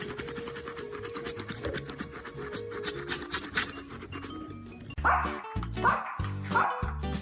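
A dog barks and yips in short bursts, mixed with scratching and rubbing noises, louder and sharper toward the end.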